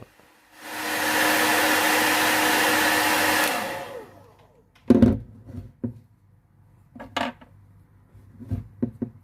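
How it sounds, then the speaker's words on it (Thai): A handheld hair dryer blows steadily for about three seconds to dry its cleaned filter, a loud, even whoosh that cuts off abruptly, followed by scattered clicks and knocks of handling plastic parts. "จากนั้นเราก็ใช้ไดร์ปรับผมนะครับ เป่าลงไปก่อนนะครับ เพื่อให้แผ่นกรองนั้นแห้ง"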